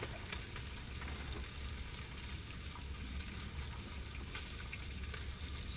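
Sausages frying in butter in a tiny pan, a dense, steady sizzle with sharp pops and spits scattered throughout, close and without talk.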